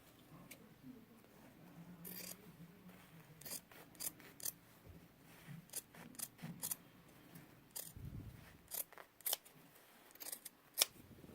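Scissors trimming backpack pocket fabric, quiet close snips and rustling cuts in an irregular series, with soft handling noise between them.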